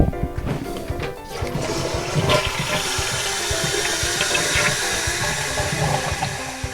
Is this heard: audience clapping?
no